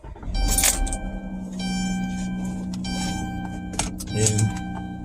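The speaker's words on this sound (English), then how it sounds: "Gotta get my keys out." Car keys jangling inside a car, a few bright metallic bursts of clinking, close and loud, separated by quieter stretches with a steady low hum and a thunk.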